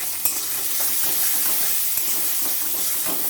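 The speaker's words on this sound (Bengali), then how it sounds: "এবার একসাথে সবটা নেড়ে দিলাম" Chopped onion, garlic and tomato are stirred as they fry in hot oil with cumin and turmeric, giving a loud, continuous hissing sizzle broken by light scraping strokes.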